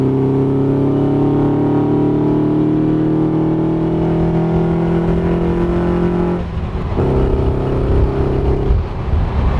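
A Mazda Miata with a Subaru engine swap pulls loudly with a steady rising drone, briefly dips as it downshifts, then revs back up, close and constant.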